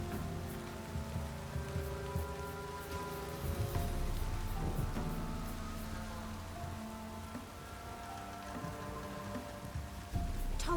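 Steady rain falls throughout in The Witcher 3, a dense continuous patter with faint low rumbling beneath and a sustained background tone, no voices.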